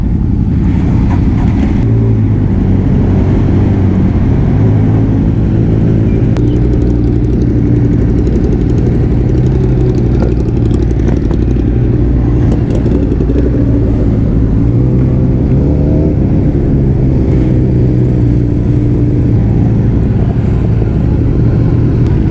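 Ducati 1299 Superleggera motorcycle on a group breakfast ride, its engine a loud, unbroken low rumble throughout, rising and falling slightly with throttle, heard close with wind noise and no talking.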